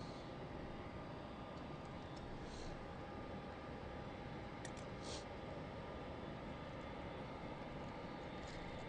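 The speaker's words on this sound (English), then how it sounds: "The A380 will be uh, taxiing right past us." An Airbus A380 four-engine airliner taxis past on an airport taxiway, heard as a steady, loud broadband engine roar that holds constant throughout with no talking.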